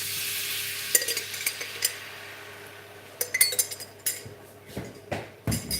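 Sauce poured into a hot pan sizzles steadily while a utensil stirs, with several sharp scraping clinks against the metal and no voices.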